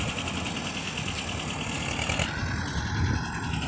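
A close, continuous, throbbing diesel rumble comes from an Escort 335 tractor, 35 hp class, pulling a heavily loaded wheat trailer of around 50 quintals, with a slight change in tone partway through.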